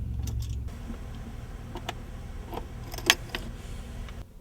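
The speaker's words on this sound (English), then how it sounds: "we're going to do is just going to simply plug this into the USB drive in our console here" A USB jump drive is pushed into the USB port of a General Motors car console, giving a few small clicks and a sharp plastic snap, close up in a quiet cabin with a low background hum.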